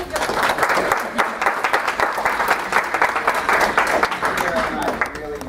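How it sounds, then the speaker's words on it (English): A crowd applauds to welcome a speaker at a talk on men in the feminist movement, with a dense, steady burst of clapping that holds for several seconds. "Let's give him a big applause."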